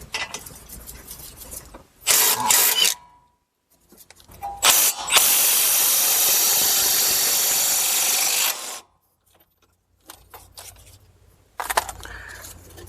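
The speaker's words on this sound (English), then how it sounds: "So we'll start by first removing the caliper bracket" Power tool or impact driver loosening the brake caliper bracket bolts on a Chrysler Town & Country, a 221 mm socket job: short bursts near 2 s and 5 s, then one long steady whirring run of about three and a half seconds, with quiet gaps between.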